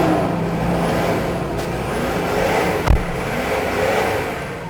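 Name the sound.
Toyota Land Cruiser Prado TZ 1997 engine running after start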